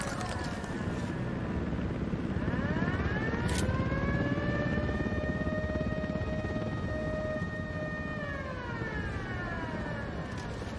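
A steady, loud mechanical drone with rising and falling tones, an approaching helicopter in the video game Ghost Recon Wildlands, continuous throughout with a brief bright burst partway.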